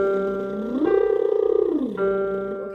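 A buzzing lip trill slides up an octave, holds briefly with a fluttering texture, then glides back down to the starting pitch.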